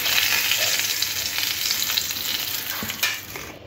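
Pointed gourd (potol) slices frying in hot oil, browning for a Bengali fish curry, give a steady, dense sizzle throughout with a few brief clinks or stirs near the end, close and fairly loud, with no talking.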